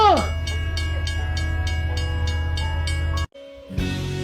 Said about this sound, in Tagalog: At baka masagasaan ka ng tren.